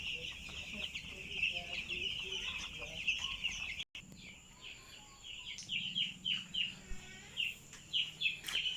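Five-day-old broiler chicks on a farm, a dense chorus of high peeping and chirping close by, continuous and lively, with a brief cut midway and someone talking underneath.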